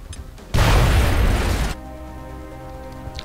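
A grenade blows up in XCOM: Enemy Unknown as one loud, sudden boom with a roaring blast that lasts about a second before it cuts off into quiet game background hum.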